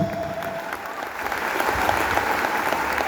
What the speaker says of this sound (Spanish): Dale palmas, dale palmas, dale palmas. Dale palmas al Señor.